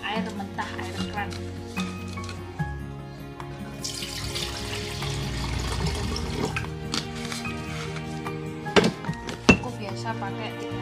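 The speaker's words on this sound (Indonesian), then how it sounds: "Dikasih air mentah, air keran." Tap water pours into a container for several seconds, a splashy rush that fills in steadily, with a person talking over it and a few clinks.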